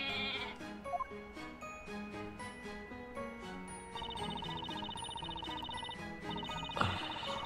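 A goat bleats in Professor Layton vs Phoenix Wright, its game-voiced bleats repeating over light jingling music, clear and close with no talk.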